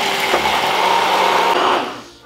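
A kitchen blending machine whirs steadily as it mixes milk into a marinade for spiced fried chicken burgers, a loud continuous motor drone with a brief change in pitch before cutting off near the end.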